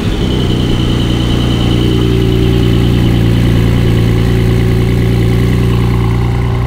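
A Porsche 718 Spyder engine with particulate filters idles loudly and steadily nearby, a deep, even rumble that never changes pace.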